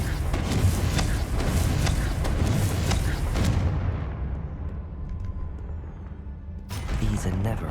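Confringo blasting spell explosions from Hogwarts Legacy in a dense, booming barrage, loud rumbling bursts layered over battle noise, fading into a quieter rumble before another sharp blast erupts at the end.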